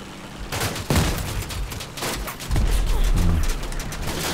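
Cannon fire in the vehicle combat video game Crossout, with loud repeated booming shots and bursts of gunfire over several seconds, mixed with someone talking.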